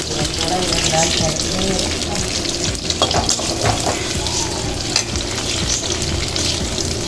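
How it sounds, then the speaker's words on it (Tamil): Onions and chillies sauté in a pan for nethili dry fish thokku, giving a steady, close sizzle with occasional stirring scrapes and clinks throughout. "நல்லா வதங்கணும் இதெல்லாம்."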